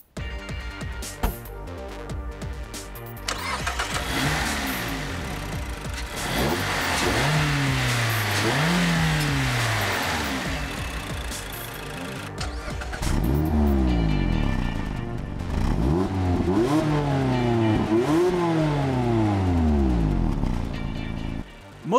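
A 2016 Mazda MX-5 Miata's SKYACTIV-G 2-liter four-cylinder engine revs up repeatedly through rising, falling pitch sweeps, loud and close, with brief shifts between climbs and no speech.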